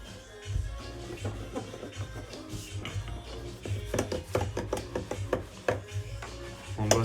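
A knife cuts fresh pasta dough for ravioli on a floured board, making soft, irregular close-up chops with light scraping and shuffling. The sound is fairly quiet, with no talking.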